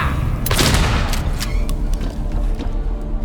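Shotgun blasts in the video game Silent Hill 2 Remake, a loud close boom followed by further sharp gunfire cracks and rumbling echoes over a continuous low background.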